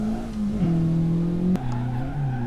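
Honda Civic Type R FK8 cornering at Ebisu, its engine droning loud and close with tires squealing, the pitch stepping down at a gear change and again after a sharp blip.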